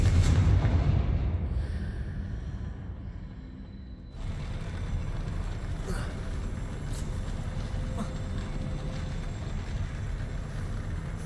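Depulso and Confringo spells cast in the Hogwarts Legacy video game produce a loud blast at the start, then a sustained rumbling, whooshing roar that holds steady to the end.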